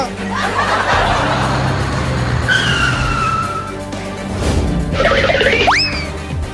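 A vehicle pulls up outside: an engine note and a sharp skid, then cartoonish boing-like effects and snickering sounds, loud and close.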